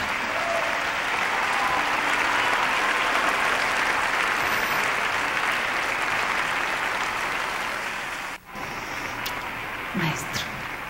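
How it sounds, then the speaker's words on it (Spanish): An audience at a concert applauds the maestro in loud, sustained clapping that fills the hall and briefly dips near the end before continuing. "Un aplauso grande al"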